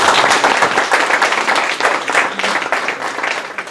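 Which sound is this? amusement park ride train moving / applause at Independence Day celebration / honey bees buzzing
applause at Independence Day celebration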